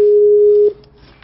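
A steady telephone ringback tone heard while placing a call, a single loud sustained beep lasting most of a second before stopping, followed by quiet.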